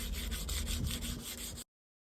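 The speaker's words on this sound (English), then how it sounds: "I'm gonna start with this 240 grit sandpaper and just go around these edges" Hand sanding around the edges of a leather steering wheel with 240 grit sandpaper: quick back-and-forth rubbing strokes, close and fairly soft, lasting about a second and a half before stopping abruptly into silence.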